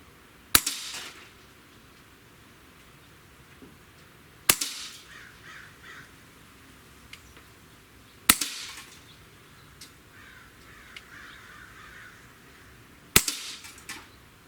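Four sharp, isolated shots from an AEA HP Series SS Plus semi-auto PCP air pistol fired at a 20-yard target, each a crisp crack spaced a few seconds apart with quiet room tone between.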